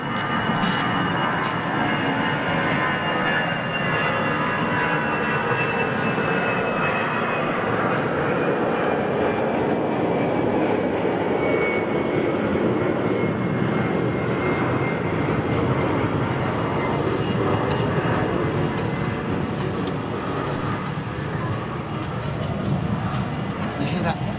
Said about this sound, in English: Near the fan blades turning on that 320 that's just landed.